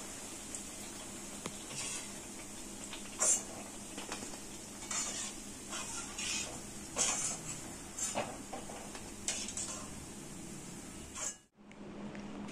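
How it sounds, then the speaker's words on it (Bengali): Bread pieces fry in a pan for shahi tukda, a steady close sizzle broken by spatula stirs and light scrapes, then cutting briefly to near silence before resuming; no voices. "পাউরুটির টুকরোগুলো ভেজে নেব।"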